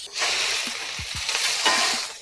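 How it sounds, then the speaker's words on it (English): Chicken hits a hot smoker grill with a dense, hissing sizzle, a steady crackle filling the clip, broken by a few soft knocks and clinks of the cooking. "We're gonna throw down our chicken."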